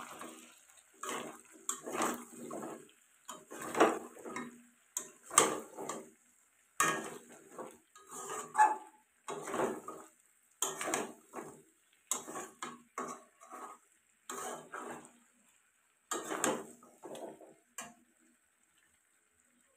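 Potatoes being stirred in a pan: a series of separate scraping and clattering strokes in an irregular rhythm, close and moderately loud, with short pauses between them.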